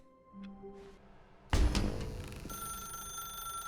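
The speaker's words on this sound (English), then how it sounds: "pick up the phone. This is the phone ending." Telephone in The Stanley Parable: Ultra Deluxe begins ringing loudly, a sudden bright electronic ring that cuts in after quiet game tones and keeps sounding with a sustained buzzing tone.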